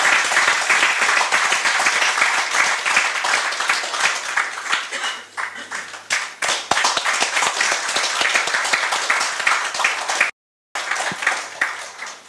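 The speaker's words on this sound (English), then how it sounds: "Let's give them a big round of applause." Loud, sustained applause from a large crowd at an academic centre event, dense and steady clapping that continues for several seconds with a brief cut near the end.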